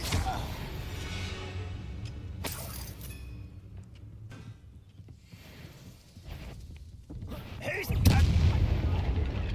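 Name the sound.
Bombarda and Confringo spell blasts in Hogwarts Legacy video game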